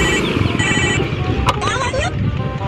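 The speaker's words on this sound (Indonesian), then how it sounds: "Telepon." A telephone rings with repeated electronic trills while people talk loudly nearby.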